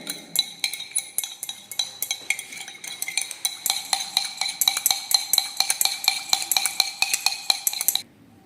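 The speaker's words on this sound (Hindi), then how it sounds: "अब इसे ग्लास रॉड से प्रॉपर मिक्स करेंगे।" A glass rod stirs borax into glycerol in a glass container, giving a quick, steady series of light clinks and scrapes that grow denser and brighter before stopping abruptly near the end.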